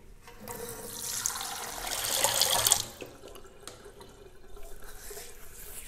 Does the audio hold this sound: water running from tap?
yes